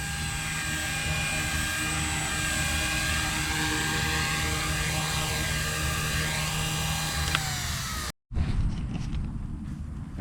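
A Blade 150S small RC helicopter flying basic flips and rolls, its high electric motor and rotor whine steady and loud with pitch sweeps as it maneuvers, cutting out briefly near the end before resuming.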